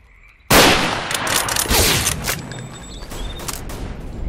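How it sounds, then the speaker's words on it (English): Gunfire in the video game S.T.A.L.K.E.R.: Call of Pripyat with the Misery mod, a sudden loud burst followed by a dense, rattling stretch of rapid shots and impacts lasting several seconds, with no talk. "Who the fuck is shooting?"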